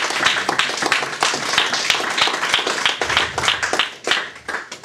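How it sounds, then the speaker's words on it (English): A church congregation claps in fairly quick, uneven rhythm, many hands at once forming dense sharp bursts that stay loud and close throughout. "If you are blessed, clap for Jesus."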